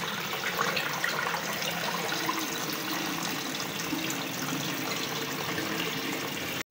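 Running water sloshes and splashes steadily as masoor lentils are rinsed and swirled in a bowl under a tap.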